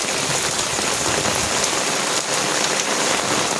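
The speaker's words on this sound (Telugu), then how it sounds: "కుండపోత గుమ్మరిచ్చుడు అంటారు చూసిందా, అట్లా కొడుతుంది వర్షం పొద్దుటి నుంచి" Heavy downpour drumming steadily on surfaces, a dense, loud and continuous hiss of rain with no gaps and no voices.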